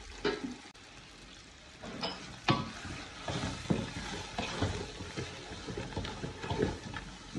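Chili powder is stirred into a biryani pot with a spoon, giving soft scraping strokes and light sizzling. The scrapes come at an irregular rhythm over a low, steady frying hiss.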